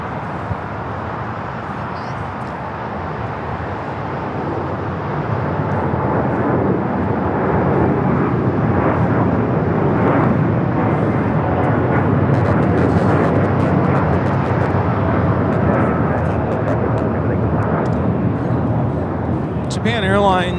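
A Japan Airlines Boeing 787-9 Dreamliner takes off from Los Angeles bound for Osaka, a broad jet roar that swells after the first few seconds and then holds steady and loud.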